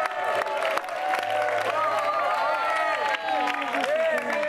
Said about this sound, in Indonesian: Boleh kita berikan tepuk tangan sekali lagi untuk Samuel.